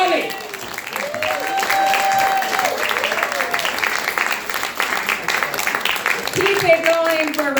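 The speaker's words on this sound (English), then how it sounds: "Please give her a big round of applause." A crowd at a stand-up comedy night in New York City applauds in a loud, sustained round, with a voice talking and cheering over the clapping throughout.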